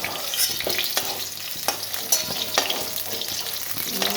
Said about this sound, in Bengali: সামান্য বেগুনটা অল্প ভেজে দিয়েছি